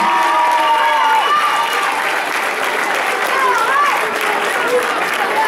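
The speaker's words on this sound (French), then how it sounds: "Alors un grand applaudissement." An audience at a beatbox battle applauds a French and world-level champion, sustained, loud, even clapping with some crowd cheering, while voices carry faintly over it.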